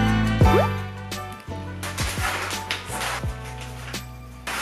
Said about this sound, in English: Rinsing the substrate.